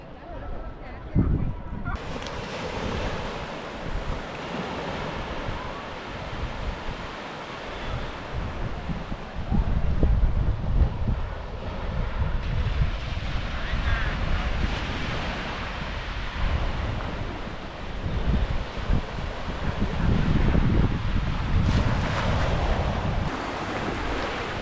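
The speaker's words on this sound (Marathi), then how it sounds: "नुसता निळाशार समुद्र, एकदम अथांग पसरलेला." Sea waves wash repeatedly onto the coast, with strong wind buffeting the microphone in a loud, continuous rush that swells in places.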